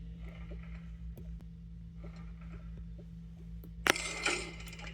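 Elevator in the Toca Boca video game moving: a steady low mechanical hum with faint scattered clicks, then a sudden loud clunk with a bright ringing burst near the end, no voices.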